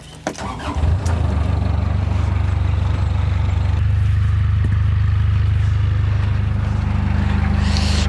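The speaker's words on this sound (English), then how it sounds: "Better start the engine." A narrowboat diesel engine cranks briefly and catches, then settles into a loud, steady, low rumbling idle, close by with no talk over it.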